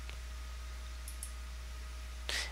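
A single faint mouse click while creating a new GitHub repository, followed by a couple of soft clicks over a low steady hum in a quiet room.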